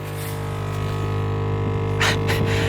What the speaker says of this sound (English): That sound is actually the heater.